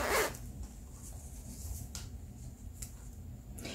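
An invisible zipper sewn into a black lace dress is pulled up with a short, close zipping rasp at the start, followed by faint fabric rustling and small ticks.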